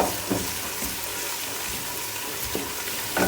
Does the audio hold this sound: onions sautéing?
yes